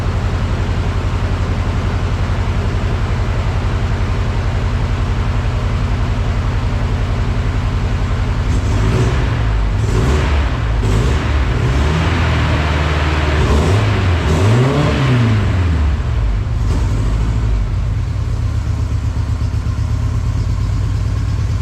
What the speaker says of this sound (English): Definitely doesn't sound like it's running on all cylinders.